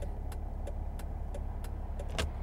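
A 2009 Mercedes E320 Bluetec diesel with a boost problem, driving at about 25 mph in fifth gear, gives a steady low rumble from inside the cabin, broken by faint, regularly spaced ticks.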